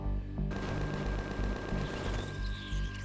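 Rapid sustained minigun fire in the Empyrion space game kicks in abruptly after a brief lull, a heavy rolling burst of shots with a continuous tone running underneath.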